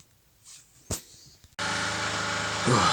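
A petrol generator under test starts abruptly partway through, running with a loud, steady engine drone after a brief quiet stretch with a few faint knocks.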